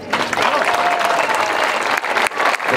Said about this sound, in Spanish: Y este aplauso es para ti, con muchísimo honor, muchísimo orgullo